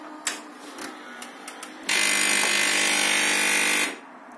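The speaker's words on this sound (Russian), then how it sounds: "Крутится кофемолка." A Philips HD8827 coffee machine's built-in grinder spins with a loud, steady whirring buzz for about two seconds after a few light clicks, then cuts off abruptly.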